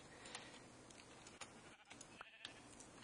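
Sheep bleating in the video game TerraFirmaCraft, short nasal cries over a steady busy game background, one louder call near the middle and a couple of fainter ones, no talking.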